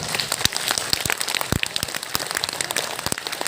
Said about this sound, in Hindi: और एक साथ तालियां बजाओ